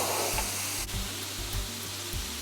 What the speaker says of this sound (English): Cook some onions.